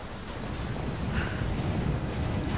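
A steady, full-bodied roar of mountain wind in the video game Rise of the Tomb Raider on PS5 blows as a constant low rumble with airy hiss above it, heard alone without talk.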